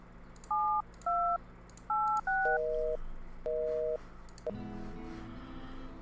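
Touch-tone keypad dialing from the video game Thimbleweed Park: a series of clean electronic button beeps, some quick pairs and some longer held tones, followed by a shift to a steadier line-style tone under faint background music.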